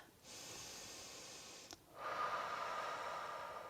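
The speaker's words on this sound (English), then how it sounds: "I'm going to breathe in through my nose and out through my mouth" Deliberate slow breaths during a guided whole-body cardio flow session, a long nasal inhale followed after a brief pause by a longer, louder exhale through the mouth, both airy and close with no talking.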